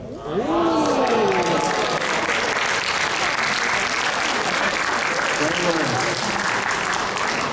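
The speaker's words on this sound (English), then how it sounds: "Round of applause for the Williams." Loud, sustained crowd applause fills a hall at the Anime Matsuri 2021 anime convention, steady throughout, with voices talking and calling out over the clapping.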